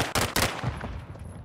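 Two sharp, loud gunshots ring out close together in the video game Call of Duty: Modern Warfare II, then trail off into an echoing rumble.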